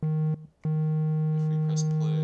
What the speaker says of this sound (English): so a sine wave sounds like this, kind of like a telephone beep.